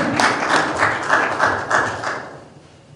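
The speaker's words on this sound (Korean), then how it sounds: "큰 박수로 박 교수님을 맞아주시면 감사하겠습니다." Audience at a Korean maritime logistics seminar claps to welcome a speaker, a steady burst of applause from the room that fades out over about three seconds.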